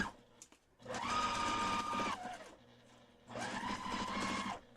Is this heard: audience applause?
no